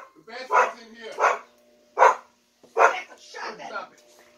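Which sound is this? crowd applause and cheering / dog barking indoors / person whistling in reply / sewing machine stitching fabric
dog barking indoors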